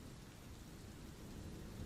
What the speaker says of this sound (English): even the rain seems a bit quieter now